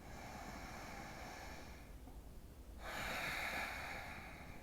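A deep breath drawn in during a yoga flow, a faint, close, airy rush that swells louder toward the end over a quiet background, with no talking.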